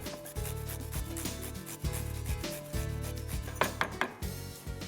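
Cucumber being grated for a yogurt chutney, with steady rhythmic rasping strokes that repeat close up and fairly loud, with no talking.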